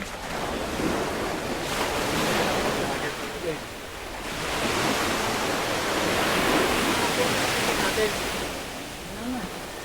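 Ocean waves roll and wash in steady surges with wind buffeting the microphone, a continuous loud roar on a stormy shoreline, with faint voices underneath.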